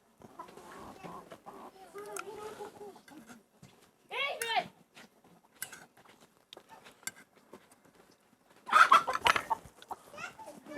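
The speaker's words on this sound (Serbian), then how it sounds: "Upravo smo imali ovde okršaj i sudar 2 kokoške." Two chickens scuffle in a village yard in Grizime, Kosovo, with soft clucking and two sharp squawking flurries, one in the middle and a louder one near the end, amid people talking earlier.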